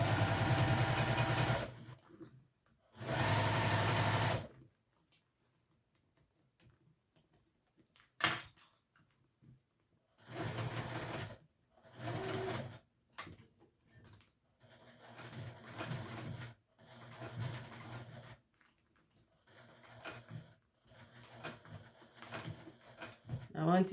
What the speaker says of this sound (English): once you get to know your machine, you can actually hear the skip stitches